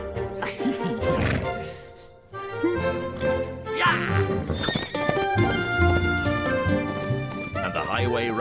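A horse clip-clops and whinnies as the Highway Rat rides along the highway, the steady hoofbeats set against music with a narrating voice.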